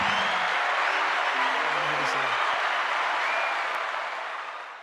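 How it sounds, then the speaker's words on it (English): An audience applauds an introduced guest during a boxing-talk show, a dense wash of clapping that holds steady then fades out, with a voice talking over it early on. "Let's give him a round of applause"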